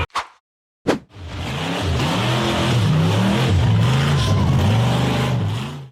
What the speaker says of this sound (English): The red buggy powered through the muddy section and tried to climb the steep dirt embankment